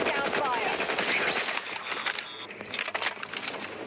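Rapid automatic gunfire from a video game shooter, The Outer Worlds 2, a dense crackling burst of shots that thins into scattered sharp cracks, loud and continuous across the clip.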